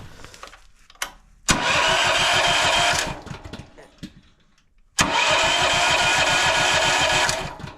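A Honda 13 horsepower engine being started in cold weather cranks in two long bursts of rhythmic chugging, each a couple of seconds, loud and close, with a quiet pause between.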